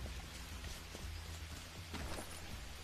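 Steady rain in the jungle survival video game Green Hell, a dense continuous hiss of drops on surfaces, faint and unbroken with no talk.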